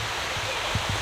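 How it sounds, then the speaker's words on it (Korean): A forest stream flows at a campsite in the woods, giving a steady, fairly loud rushing wash of water throughout, with a few soft low thumps near the end. "이게 아까 그 개울 있고"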